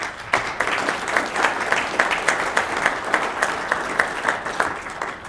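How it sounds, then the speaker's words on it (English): Sustained applause from an audience at an FBA event honoring judicial officers: dense, steady clapping that fills the whole stretch at a fairly even level, with no voices rising above it. "please join me in a round of applause for our judicial officers"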